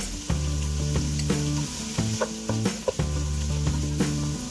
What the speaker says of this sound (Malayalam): ഇനി നമുക്ക് സവാള ഇടാം. ഈ സവാള ജസ്റ്റ് ഒന്ന് ട്രാൻസ്പെറൻ്റ് ആകുന്നവരെ വഴണ്ടാൽ മതി